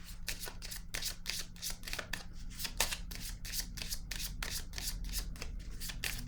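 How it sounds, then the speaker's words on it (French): Tarot cards are shuffled by hand in a quick, even rhythm of crisp riffling flicks, close and fairly quiet, repeating steadily throughout. "Là, je vais piger une carte ici."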